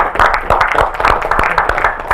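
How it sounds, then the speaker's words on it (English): Brief round of applause from an audience at a physics conference, a short burst of scattered hand claps heard up close. "we make a round of applause for the David Bridges and the other organize"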